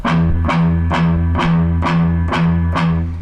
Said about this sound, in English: I'm going to pluck the 6th string open and it's going to make this sound.